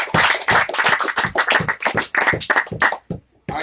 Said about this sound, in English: let us honor these, our brethren, with a very warm applause